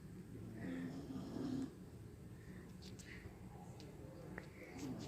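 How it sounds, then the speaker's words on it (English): A sleeping dog snores softly nearby, slow faint rasping breaths drawn in and out against a quiet indoor room background. "That's how my dog snores."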